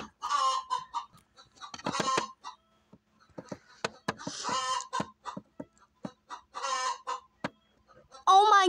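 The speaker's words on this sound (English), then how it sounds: "Is that a chicken I hear?" A chicken clucks and squawks in bursts, with sharp rapid clucks between longer cackling calls, close and fairly loud.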